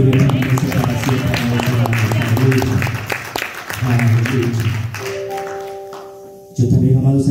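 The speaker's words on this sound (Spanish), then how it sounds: "Denle fuertes palmas aquí en tu iglesia para siempre." Church congregation clapping loudly in steady, dense applause that fills the room, with a short dip partway through and a brief held tone before the clapping surges back.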